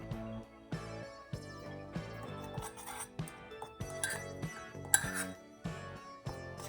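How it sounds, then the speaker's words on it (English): Flour and seasonings are stirred in a mug with a spoon, giving a run of light ceramic clinks and scrapes in an irregular rhythm, close and fairly quiet, with no talking. "I'm going to add in the flour, Italian seasoning, garlic powder, baking soda, and salt, and then mix it"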